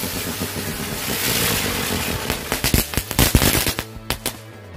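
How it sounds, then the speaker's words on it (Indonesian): A lotus flower firecracker goes off outdoors: a rising hiss and crackle builds into a rapid, irregular string of loud sharp pops and bangs, close and intense, then tapering off near the end. "yang selanjutnya ini mercon bunga teratai. Kita lihat hasilnya."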